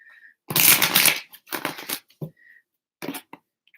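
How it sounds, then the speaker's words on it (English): Tarot cards are shuffled close up in a few quick riffling bursts with short pauses between them, crisp papery flutters standing alone against near silence. "Oh, one more shuffle, apparently."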